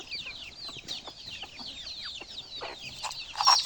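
Chickens and their chicks feed close by, with a busy scatter of soft clucks and high chick peeps overlapping throughout, fairly quiet and without talk.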